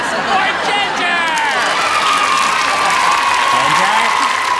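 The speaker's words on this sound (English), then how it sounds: "I need applause for Ginger!" Audience applause and cheering in a cartoon talent show, a loud continuous crowd wash with shouting voices and whistles or sliding tones over it, steady throughout.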